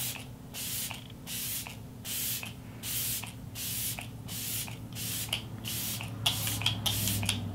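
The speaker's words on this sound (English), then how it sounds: "mist my face with my makeup setting spray" A Believe Beauty makeup setting spray mists in a long run of quick, evenly spaced hissing pumps, close and steady, with the bursts speeding up toward the end.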